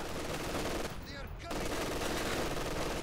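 Layered machine gun fire in the wartime strategy game Company of Heroes 2: dense overlapping bursts of automatic fire fill the soundscape, dropping out briefly midway before resuming, with a commentator's voice partly over the action.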